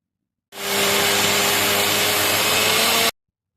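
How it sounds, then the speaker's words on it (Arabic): An electric hand mixer beats chocolate cake batter of milk and oil, a loud steady whirring drone that starts abruptly, holds for about two and a half seconds, then cuts off. "اضرب الخليط وبعدين كده بوقف شويه"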